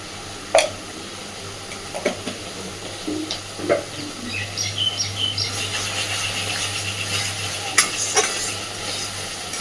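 Spices with Kashmiri chilli powder fry in oil in a pan, with a few sharp spatula scrapes and knocks over a low sizzle that grows busier toward the end, close and moderately loud, with no speech.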